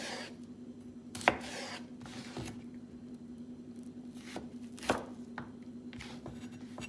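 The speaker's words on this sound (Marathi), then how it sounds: "आनी हांव बारीक कातोता" A knife finely chopping salad vegetables for a Mediterranean chickpea salad on a board, sharp separate cuts at an uneven pace, close and fairly quiet over a steady low hum.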